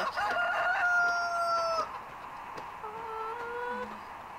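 Video-game chickens on a Farming Simulator farm: a rooster crows clearly in a long drawn-out call, followed by softer clucking and short squawks, all close and with no talking.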